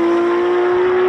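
A Porsche 911 GT3 with a 4-litre naturally aspirated flat-six making 500 horsepower holds a steady, loud, high-pitched engine note close by, a sustained drone with no voices.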